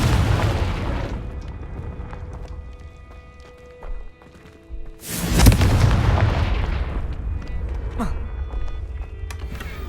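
In the Hogwarts Legacy video game, a Confringo blasting spell explodes with a single heavy boom partway through, over continuous rumbling game ambience and scattered smaller impacts.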